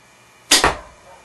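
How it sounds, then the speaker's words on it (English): Parker Sidekick Extreme bow, stock with no stabilizer and drawn at about 38 pounds, releases an arrow in a single quick double-thwack, fairly close and moderately loud, followed by a brief fading resonance. "I'm going to fling an arrow here for you and show you."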